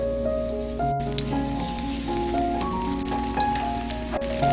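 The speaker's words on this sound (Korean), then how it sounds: "중불로 달군 팬에 기름을 넉넉하게 둘러주세요. 반죽을 한 숟가락씩 떠서 올려주세요." Korean chive pancake batter spooned into a pan of oil heated over medium heat, giving a crackly, rain-like sizzle that runs steadily under soft background music.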